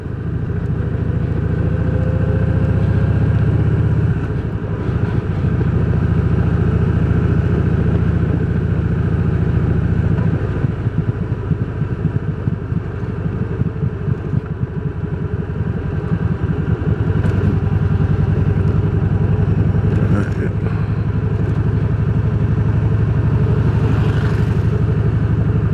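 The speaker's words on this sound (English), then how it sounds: "Downshift again." Vehicle engine on a rural rustic road with utility work, droning steadily close up with shifting pitch as it downshifts, rpm changes audible around several points, with no talk.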